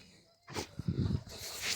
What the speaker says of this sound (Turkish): Kafkas çoban köpeğimiz